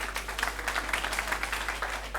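An audience at a high school talent event applauds, steady scattered clapping from many hands at moderate distance, with no voices over it.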